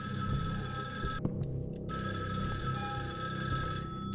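A telephone ringing in the horror video game Evil Inside, an electronic bell tone repeating with a brief break between rings, steady and moderately loud with no talk over it.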